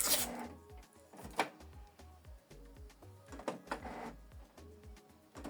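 A Canon Pixma TS6550i inkjet printer powers on, its motors whirring and clicking in short repeated mechanical bursts and ratcheting sweeps, close and moderately loud with no talking.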